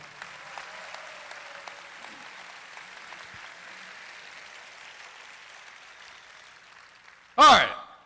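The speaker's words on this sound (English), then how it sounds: "Let's give another big round of applause for Dr. Hanlon." An audience at a Wicomico Public Schools back-to-school rally claps in sustained, moderately loud applause that continues for several seconds. A sharp, louder burst comes near the end.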